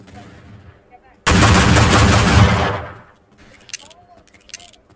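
Gunfire in a wild west video game erupts as a loud, dense burst of shots lasting about two seconds, then tails off into scattered faint clicks and taps.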